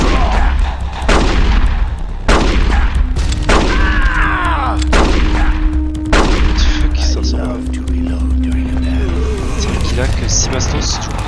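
Revolver gunfire in the GameCube game Metal Gear Solid: The Twin Snakes, with several loud sharp reports spread across a duel, mixed with game music, sound effects and voices talking throughout.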